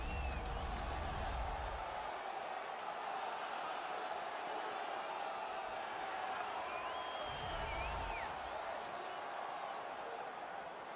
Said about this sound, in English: And the crowd back alive here inside the stadium.